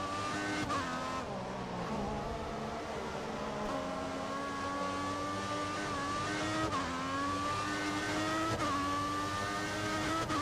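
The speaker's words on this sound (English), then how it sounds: "Might be an unpopular opinion, but you hate the engine sound." A Formula 1 car engine in the racing video game F1 2014 screams at high revs, holding a loud, constant whine that dips and climbs with several gear shifts and brief tire squeal.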